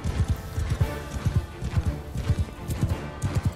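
Horse hooves trotting in Bannerlord, the medieval battle video game, a steady, fairly loud clip-clop rhythm of repeated hoof strikes with no talking over it.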